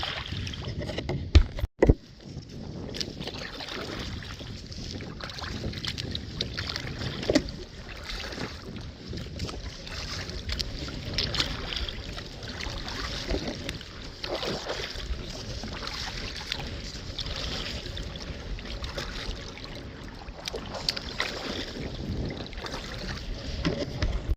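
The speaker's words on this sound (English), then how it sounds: "so we've been paddling for, I don't know, not that long" Canoe paddling on a river in cold headwind, with steady broadband wind rush buffeting the microphone throughout, soft water splashes from the strokes beneath it, and one sharp knock near the start.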